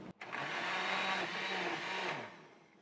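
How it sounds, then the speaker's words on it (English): A blender whirs loudly and steadily for a couple of seconds blending a maple fig salad dressing, then winds down. "Now we're gonna transfer our stovetop dressing into a blender,"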